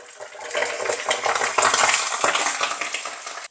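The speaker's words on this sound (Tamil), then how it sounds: "இந்த பூண்டை வந்து நான் இதில் ஃப்ரை பண்ணி எடுக்கிறேன்." Garlic fries in oil in a pan with a close, bright sizzle broken by clattering scrapes of a utensil against the pan, ending abruptly.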